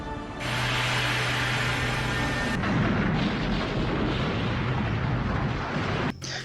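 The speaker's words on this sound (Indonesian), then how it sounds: "Godzilla meledakkan batu itu dengan menggunakan napas atomnya" Giant explosion in a kaiju film fight as Godzilla's atomic breath blasts an alien rock, a sustained roaring boom that swells and rumbles loudly before cutting off abruptly near the end.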